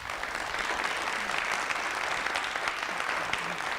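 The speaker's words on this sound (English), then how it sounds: "Let's give them a round of applause." A conference audience at a Roseville community discussion series claps steadily, a dense continuous patter of many hands filling the room throughout, with no speech over it.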